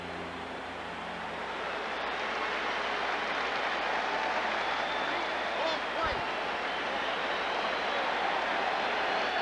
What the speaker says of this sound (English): and he'll get some round of applause